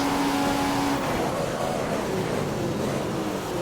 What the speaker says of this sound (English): Now our car's into the pits.